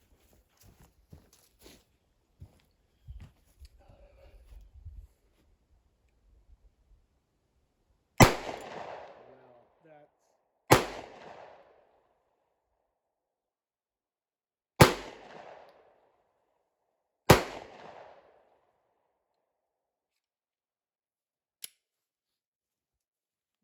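Glock 43 pistol fired four times at clay targets, sharp loud reports spaced a few seconds apart with short echoing tails, after some light handling clicks and rustling.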